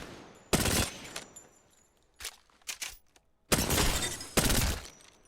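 Gunfire from a light or submachine gun in the shooter game Apex Legends, long loud automatic bursts alternating with a few quick single shots, close and punchy with brief pauses between volleys.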